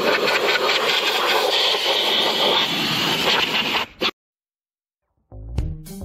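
A leaf blower clearing off a Husqvarna zero turn mower, a loud steady roar for about four seconds that cuts out abruptly, followed by silence and a few brief knocks.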